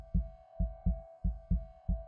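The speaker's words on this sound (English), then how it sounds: "this heartbeat is not doing it justice" A heartbeat in a horror video game, six regular thumping double beats in quick succession over a steady high hum, close and prominent with nothing else audible.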